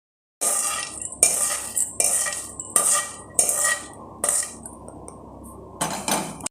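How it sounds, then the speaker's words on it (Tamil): Peanuts roasting in a pan are stirred with a metal spoon, making about seven loud, rhythmic scraping strokes close up, with little sizzle. "இப்போ இந்த கடலை அப்படியே கொஞ்சமாக வறுத்து விடுங்க"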